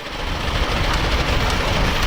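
A go-kart engine revs loudly and steadily throughout, a dense, continuous mechanical roar with strong low rumble and no pauses.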